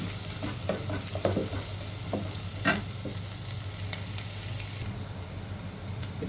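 Shallots, garlic, onion and curry leaves sizzle in hot oil, stirred with a spoon that scrapes and taps the pan now and then over a constant close frying hiss.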